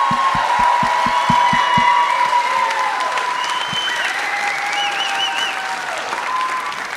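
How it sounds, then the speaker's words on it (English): An audience at a university photo night event breaks into loud, sustained applause that follows a few sharp claps and then gradually tapers off. "And one very special round of applause for Joel Westbrook, who's right here tonight"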